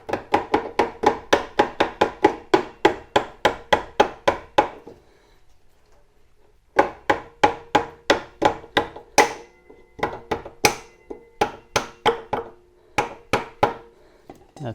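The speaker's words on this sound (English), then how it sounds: "Just get my soft hammer here and tap the axle through." A soft hammer taps a motorcycle wheel axle through the hub during a tire change. The blows are brisk and evenly spaced, with a short pause before the steady tapping resumes. No one speaks.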